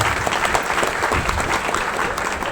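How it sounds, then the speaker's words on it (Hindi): Audience applause at a business meeting, steady dense clapping from a crowd throughout, fairly loud with no talk over it. "एक बार ताली ऑल ओपनर के लिए देते हैं।"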